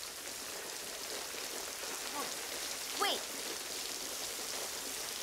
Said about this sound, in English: We need to get you out of this rain and inside.